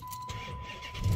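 A car engine cranks and catches in a quick start, rising in loudness at the very end. The sound is brief and close, with no voices.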